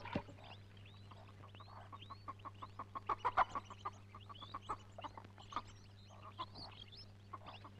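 Chickens cluck in a steady stream of short calls in a village yard, with a constant low hum running underneath.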